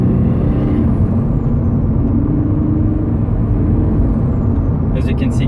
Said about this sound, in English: We just bolted this turbo kit on. It sounds really good.